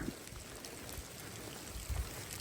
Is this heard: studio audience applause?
no